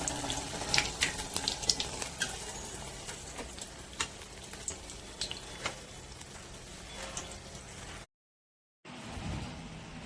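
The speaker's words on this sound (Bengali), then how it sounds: "নিয়ে তেলে ছেড়ে দেবো" Lentil fritters for dahi vada dropped into hot oil, giving a steady crackling sizzle with scattered pops and a brief silent gap before the frying resumes, close and fairly loud.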